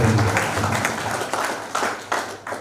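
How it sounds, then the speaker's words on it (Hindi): Audience at a leadership and business workshop applauds, a brief round of many hands clapping at close range that rises in waves and starts to fade. "एक बार जोरदार तालियां बजाइए"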